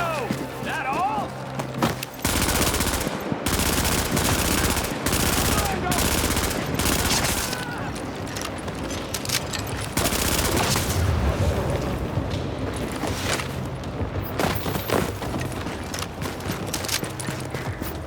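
Heavy automatic gunfire in a firefight at the General Assembly in the shooter The Division, with repeated loud bursts and sharp shots throughout and voices breaking in between.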